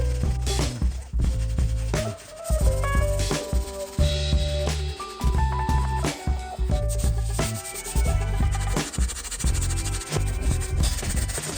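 Vigorous, continuous rubbing and scrubbing of a sponge against a wheel, close up and loud, with brief pauses between strokes and no talking.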